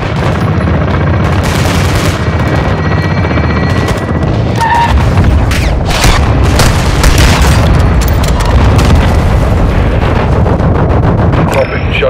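Artillery strikes pound a battlefield in a realism first-person shooter, with repeated loud booming explosions and crackling bursts of gunfire rolling continuously, while a voice talks briefly over the barrage.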